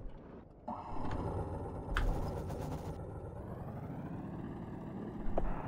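A vehicle driving in the video game Battlefield 1, a steady engine drone running under game ambience, with a few sharp clicks and a brief burst of noise in the middle.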